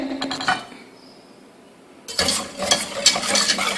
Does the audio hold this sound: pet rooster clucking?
no